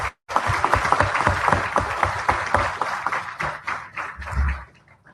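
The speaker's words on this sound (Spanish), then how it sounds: "Les pedimos, por favor, un fuerte aplauso para el doctor Náteras." Strong audience applause for Doctor Náteras at a children's rights forum, rising abruptly after a short pause into dense, energetic clapping that carries steadily and then fades out near the end.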